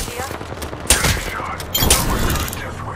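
Apex Legends weapons fire in bursts, several sharp shots around the one- and two-second marks over steady game noise, with chatter partly mixed in.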